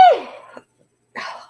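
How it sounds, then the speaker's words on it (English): A single sharp human sneeze bursts out close and loud, trailing off quickly, followed after a short silence by a softer breathy exhale or sniff. "I'm going to sneeze."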